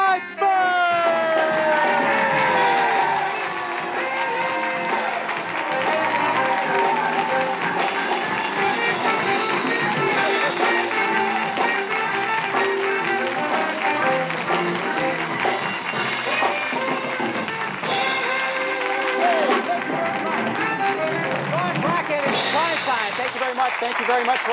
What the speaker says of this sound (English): thanks for the big crowd we have down here tonight